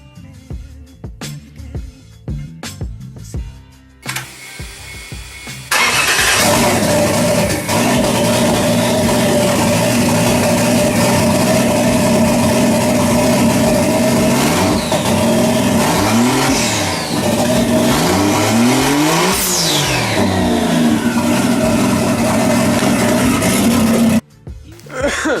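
A car engine cranks and starts after a few seconds, then runs loud and close with several sharp revs rising and falling before cutting off abruptly near the end.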